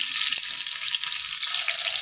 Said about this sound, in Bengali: সবগুলো মাংস একটু লাল লাল করে ভেজে নেব আমি।